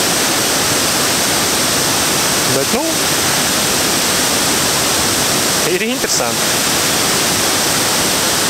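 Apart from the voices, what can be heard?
water falling through Mūrmuiža sluice into a pit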